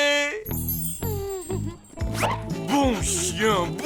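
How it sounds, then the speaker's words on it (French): A cartoon dog gives several short barks and yips amid a bright jingle and music, with characters talking over it. "Mais quel bon chien de garde tu fais, mon petit Washington."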